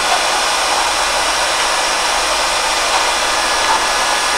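A BORT hair dryer with a display runs at 250 degrees, giving off a steady, loud broadband whoosh of blown air that holds constant throughout with no pauses or talk.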